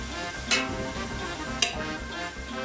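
Chopped tomatoes dropped into a pot of frying onions, spices and a splash of water for lamb pulao, giving a steady close sizzle with two sharp clinks of a utensil against the pot.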